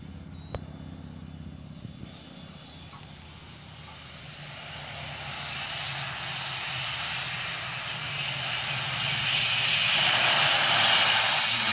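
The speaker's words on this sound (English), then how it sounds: "This Beach Duke was landing when it blew a tire and went off the runway." A Beechcraft Duke aircraft landing, during which it blew a tire and ran off the runway. A broad, steady engine roar grows gradually louder and fills the whole stretch, with no voices.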